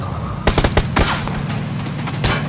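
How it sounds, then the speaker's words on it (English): Video game gunfire aimed at a jeep: sharp, loud bursts of shots cluster in the first second, then a steady rumble of engine or ambient noise continues before another burst near the end. "Keep shooting it, it's gonna blow!"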